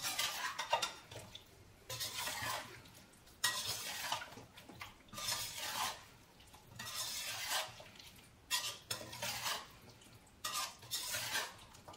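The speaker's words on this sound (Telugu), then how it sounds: "సో నేను ఈ పచ్చడిని ఈ జాడీలో వేస్తున్నాను" Spicy chicken pickle spooned into a jar, with repeated scraping and clinking of a spoon against the container in short bursts separated by brief pauses, close and moderately loud, with no talking.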